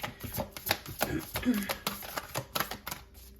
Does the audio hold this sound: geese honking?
no